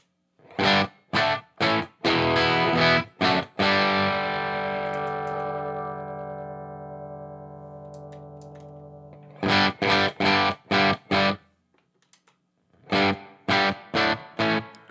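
Distorted electric guitar through a Line 6 Helix amp modeler with subtle always-on reverb: choppy rhythmic chords, a long ringing chord that slowly fades, then more short muted stabs.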